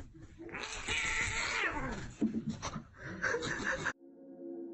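A cat caterwauls in a long, wavering, strained yowl that rises and wobbles before cutting off abruptly, loud and close.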